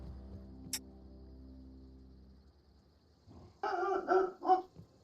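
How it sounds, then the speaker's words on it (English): A dog barks in a burst of several close, loud barks near the end after a mostly quiet stretch, with no talking. "Admittedly, I don't remember all the dog barking differences."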